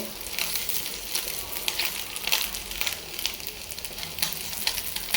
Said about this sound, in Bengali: গতকালকের মাছের ছিল, এগুলো ভাজা নিলাম এখন খাওয়ার আগ দিয়ে।